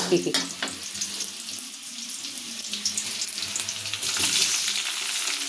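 Fish frying with tomato in a pan gives a steady broadband sizzle with occasional spits and crackles, moderately close and continuous, swelling louder toward the end, with no speech.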